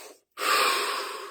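A slow, deep inhalation during a guided relaxation session: after a brief silence, one long, close, breathy intake of air.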